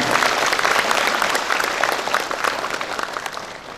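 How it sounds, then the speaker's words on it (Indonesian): A graduation ceremony audience gives sustained applause for the parents, a loud, dense wash of many hands clapping that continues steadily throughout. "Kita berikan tepuk tangan buat orang tua kita."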